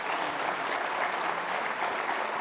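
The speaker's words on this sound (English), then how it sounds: "I just wanted to give a round of applause to our panelists here on stage." An audience at an economic forecast forum gives a round of applause to panelists on stage, a dense, even clapping sustained throughout at steady loudness.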